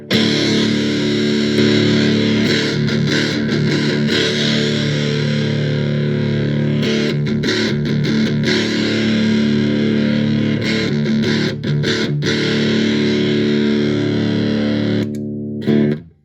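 Electric guitar played through a Pi-Rat distortion pedal on its Rat side with no clipping diodes, loud, saturated and sustained, with chords ringing continuously, brief gaps between strums, and a final chord cutting off near the end.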